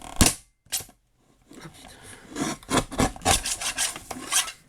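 Scraping, rasping cuts from a slightly malfunctioning guillotine paper trimmer, several short bursts followed by a longer run of gritty rubbing strokes, close and fairly loud.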